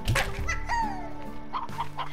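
Chickens in the video game Slime Rancher give a few short clucks and squawks, close and fairly clear over a faint game background.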